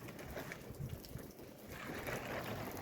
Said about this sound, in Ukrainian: Вітер дурний дує